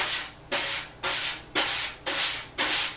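Wire brushes sweep back and forth across a drumhead in a steady rhythm, six soft swishing strokes about half a second apart, close and clear.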